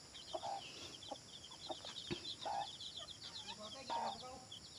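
Black Australorp hens cluck softly in a clean coop while their chicks keep up a stream of high, rapid peeping nearby, with a person talking quietly in the background.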